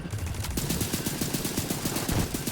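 Rapid automatic fire from an ACR rifle in a video game, with a dense run of loud, close shots and a brief pause near the start.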